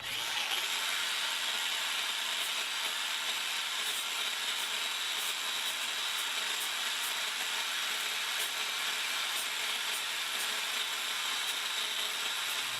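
A disc sander fitted with 120-grit sandpaper sands a wooden pool table rail in a steady, continuous abrasive hiss with faint rhythmic scraping, moderately close and without talk.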